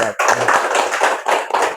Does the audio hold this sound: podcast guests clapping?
yes